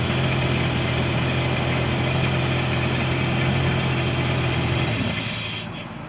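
Chevrolet Tahoe engine idling after a starter repair, a steady loud droning rumble with a continuous hum that fades slightly near the end, heard alone without talk.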